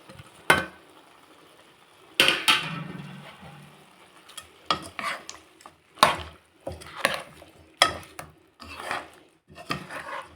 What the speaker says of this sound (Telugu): ఇప్పుడు మనము ఇది కరివేపాకు వేయాలనుకున్నాము